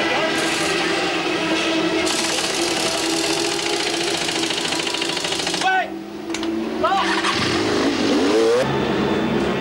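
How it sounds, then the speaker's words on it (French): Motorcycle engines roar at the start of a 24-hour endurance race, a dense, loud wall of revving bikes that drops briefly, then swells again as machines pass close by. "Le déchaînement des moteurs ne s'arrêtera plus pendant 24 heures."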